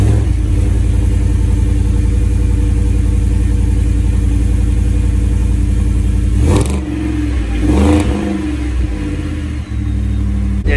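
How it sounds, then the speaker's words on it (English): A 2020 Ford F-150 with a 5.0 V8, Magnaflow exhaust and Airaid intake tube cold-starting at 82 degrees: a steady, loud idle rumble, then two sharp revs around six and eight seconds before settling back to idle. "So here's your 82 degree"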